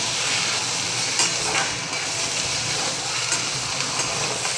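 Tomato frying in a tempering with coriander for a Maharashtrian matki dal dish, stirred in the pan: a steady broadband sizzle with soft scraping stirs, close and even throughout, no voices.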